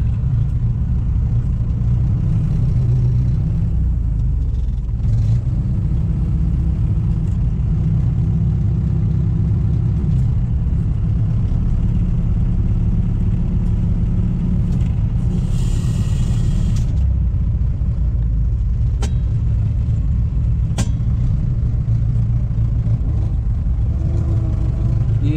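A tractor rumbles steadily nearby while tipping a trailer load of branches in a field, its engine droning continuously with occasional brief clanks and hydraulic whine over about twenty-five seconds.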